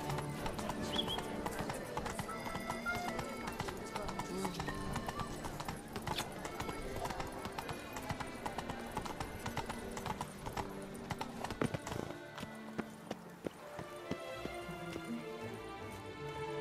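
Horse hooves gallop in The Witcher 3: Wild Hunt, Blood and Wine, with a steady, rapid clip-clop rhythm and occasional neighs over a dense game soundscape.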